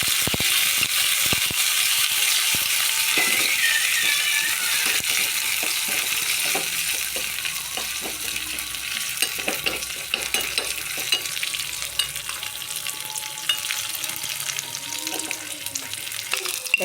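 Curry leaves are stirred into a simmering green gram and pumpkin curry in a pan, with a steady soft sizzle under repeated scraping and clinking strokes of the spoon.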